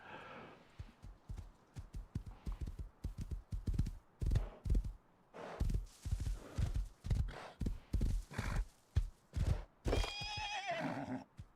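Rhythmic hoofbeats pound at a quick gallop in the video game Rust, punctuated by a loud horse whinny near the end, with no talking.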